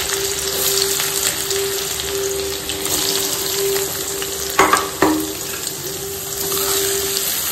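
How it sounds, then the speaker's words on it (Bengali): Onions sizzle steadily in a hot pan in a home kitchen, a constant close frying hiss with a couple of sharp utensil clanks near the middle. "পেঁয়াজগুলো দিয়ে দিই"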